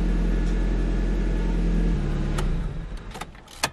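A car engine cranks and idles steadily after being started with a freshly coded key, a low continuous rumble that shifts in tone partway through, followed by a few sharp clicks and knocks near the end.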